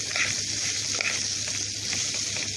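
Rice with vermicelli and a spoonful of salt being stirred in a pot, a steady soft scraping and light sizzle running continuously at close range with no talking.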